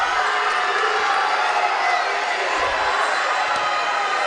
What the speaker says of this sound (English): As ICC crowd getting pumped up as they see Boone come off the bench to check into the contest